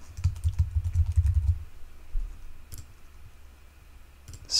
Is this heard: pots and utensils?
no